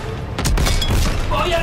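Gunfire in the World War II shooter Call of Duty: WWII, a quick burst of loud close shots with booming thuds, heard alongside a player talking.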